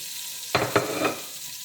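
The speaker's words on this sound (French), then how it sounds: "On laisse mijoter avant de rajouter notre chou" Sausages frying under a lid in olive oil, a steady close sizzle with two sharp clattering knocks near the middle, no voices.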